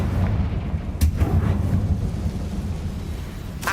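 Confringo blasting curse going off in the Hogwarts Legacy video game: a sharp booming blast near the one-second mark over a low rumbling game backdrop, with a second burst at the end, no talk.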